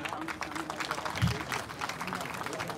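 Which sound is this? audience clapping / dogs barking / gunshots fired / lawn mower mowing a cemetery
audience clapping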